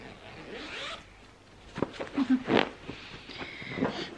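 A zipper on a small pillow cover is worked in short rasping pulls, close and moderately loud, over faint room noise with some soft handling sounds.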